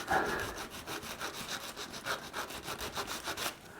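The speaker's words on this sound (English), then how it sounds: "If you only want to sand off just the tab, just this part" Steady back-and-forth rubbing of sandpaper on a small hard resin tab, quick regular strokes, close and fairly quiet, with no talking.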